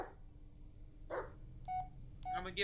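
A dog barks in the Blair Witch video game: a few short, faint barks spaced apart over a quiet low hum, with electronic beeps sounding between them.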